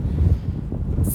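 Wind buffeting the microphone in low, gusty rumbles, loud and close, with no voices.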